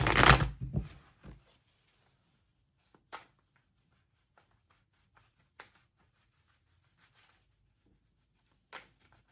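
Tarot cards are shuffled in a brief burst of close papery riffling at the start, followed by quiet, sparse clicks and rustles of cards being handled and laid down.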